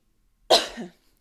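A single close, sharp cough, one brief burst that trails off quickly into quiet.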